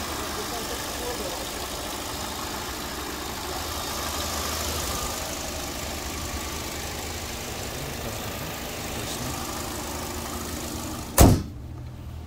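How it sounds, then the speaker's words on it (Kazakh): A 2017 Hyundai Sonata LF running on gas idles with a steady, low engine hum for many seconds while people talk, then a single sharp thud, like a door, lands near the end. "Мотор жакшы эле иштейт."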